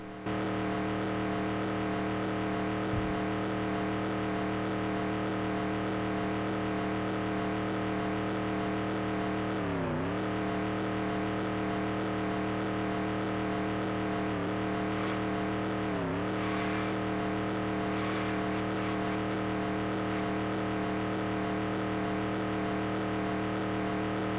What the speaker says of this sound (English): Hope you guys enjoyed hearing me on the rev limiter the entire time